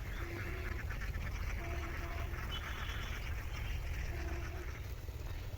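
Ducks on a farm of about three hundred laying birds quack in repeated nasal calls, several overlapping from a flock at moderate distance over a steady low background hum.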